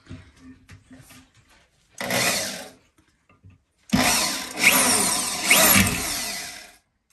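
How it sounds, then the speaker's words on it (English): Power drill drilling out stripped screws during a home repair, with a short whirring burst, a pause, then a longer, louder run that surges and strains before stopping, preceded by faint knocks. "we're going to try to drill out the screws"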